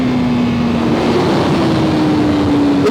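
A 2020 Honda CBR1000RR-R Fireblade SP motorcycle engine revs hard and close, a loud continuous roar with a slowly rising pitch, no talk over it.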